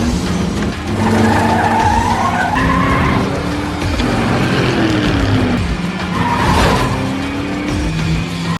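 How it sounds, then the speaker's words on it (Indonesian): Race cars skidding during a tense film race, tires squealing in long rising and falling whines over a loud continuous engine roar, cars passing close, with no voices. "kini Jensen melakukan balapan dengan serius"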